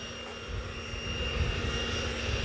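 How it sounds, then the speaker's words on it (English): An E-flite F-16 Falcon RC jet with an 80mm electric ducted fan runs at low throttle, giving a steady, loud whine and rushing hum that swells slightly, heard alone. "electric ducted fan. Listen to the sound."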